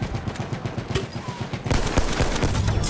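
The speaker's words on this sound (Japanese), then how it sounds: "あ、そこに、銃声聞こえたね。" Gunfire in the video game Battlefield 1: dense, rapid automatic bursts and scattered shots form a continuous rattling fusillade that grows louder midway, with no speech.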